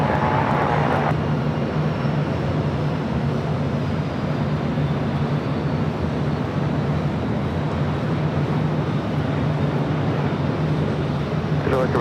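A heavy Airbus airliner landing at LAX on runway 24 right, heard as a steady, loud broadband jet roar that fills the whole clip without a break.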